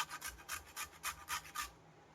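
Carrots grated on a small hand grater, seven even rasping strokes in a steady rhythm, close and quiet, ending in silence.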